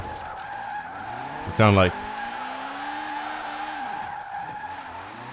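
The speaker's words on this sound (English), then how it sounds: "This super high revving Honda engine just makes it sound so funny." High-revving Honda-engined Mini drifting in the Forza Horizon 4 racing game, a sustained engine drone with a brief sharp tire squeal burst near the start, and a voice speaking over it.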